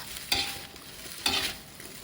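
A spatula stirs nasi goreng (fried rice) in a pan, giving two distinct scraping strokes about a second apart over a faint background sizzle, with no talking.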